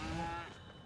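A single low, drawn-out moo from a cow, faint and a little distant, tapering off after about half a second.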